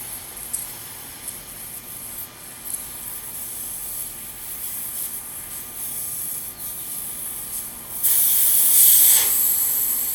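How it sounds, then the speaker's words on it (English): Air hisses out of the tyre valve of an E-Cells Super Monarch dual-crown 1500W e-bike, opened with a valve stem tool. A faint steady background gives way to a loud, bright, continuous rush of escaping air near the end. "we're going to take our valve stem tool and let the air out again"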